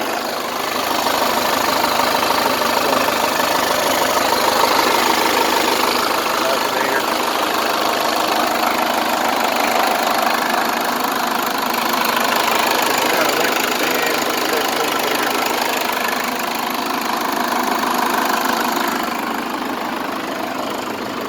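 A turbocharged Cummins 4BT diesel swapped into a Ford F150 idles steadily with a dense, continuous knocking rumble, close and loud for the whole stretch, with someone talking over it.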